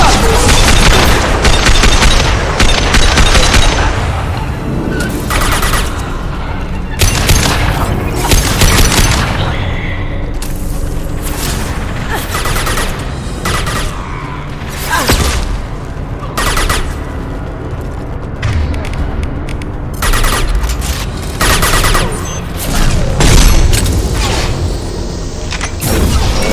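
Rapid gunfire bursts and booming weapon blasts from a Mass Effect 2 firefight against Eclipse mercenaries, loud and continuous with dense volleys and heavy impacts throughout.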